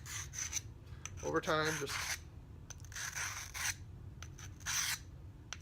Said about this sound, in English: It's got to do some sharpening on the blade for sure. And that's where I think this hone will come in.